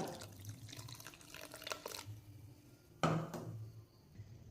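Water splashes and trickles into an iron pan in short pours, quiet and close, with a clank partway through.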